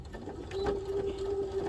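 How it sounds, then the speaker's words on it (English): A sewing machine stitching fabric for a scrunchie keychain starts up after a brief pause and then whirs steadily at close range with a constant mechanical hum. No one is talking. "I'm going to put it into the sewing machine, lining up our needle with that 1 inch mark"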